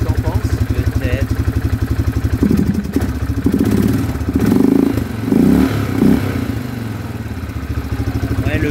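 Quad bike engine running at idle during mechanical work, a close, loud rhythmic putter with a brief rev in the middle, while people talk over it.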